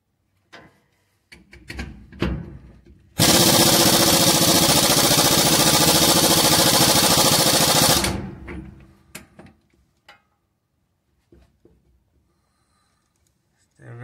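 On a Ford F150 rear axle, an impact gun tightens the pinion nut onto the crush sleeve in one loud continuous buzzing burst of about five seconds, with quieter clanks and handling noises before and after.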